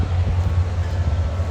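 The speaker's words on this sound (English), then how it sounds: "But this is the southbound train coming our way." A SunRail southbound commuter train passing a road crossing, heard as a steady, loud low rumble and roar of rolling stock, continuous throughout with no talk.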